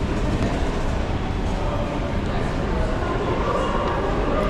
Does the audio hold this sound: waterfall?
no